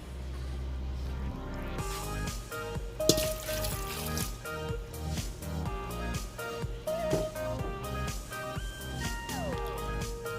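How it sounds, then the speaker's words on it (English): Organic vegetable broth is poured over potatoes in an Instant Pot, a close trickling and splashing stream with scattered drips and small clinks, over faint background music. "I'm going to take organic vegetable broth and use about a cup of it in my Instant Pot with my potatoes"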